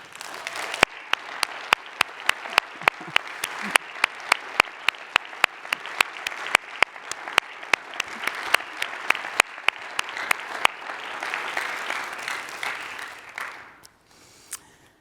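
Audience applause at the Provo State of the City 2024 address for the mayor's guest Connie; sustained crowd clapping that swells and then fades out, punctuated throughout by rapid, regular camera shutter clicks.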